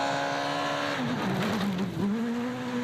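Loud, close rally car engine at Rally Estonia, ERC 2014, revving hard with a steady high whine that dips and wavers midway as the driver shifts and lifts, then climbs again, with some tire scrub underneath.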